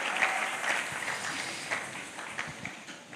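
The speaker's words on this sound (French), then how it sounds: "Nous pouvons acclamer le Seigneur" A church congregation applauds and cheers to acclaim the Lord, a steady wash of clapping from a crowd at moderate distance, with scattered louder claps and no clear voice on top.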